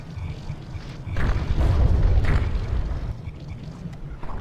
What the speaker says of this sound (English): Meanwhile, the frigate is lobbing shells.